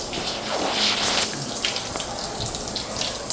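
Shower water runs steadily in a hotel bathroom with no shower curtain, a continuous close hiss and splatter with some brief clatter, no talking.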